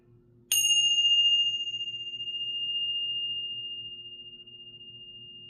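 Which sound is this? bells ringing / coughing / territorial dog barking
bells ringing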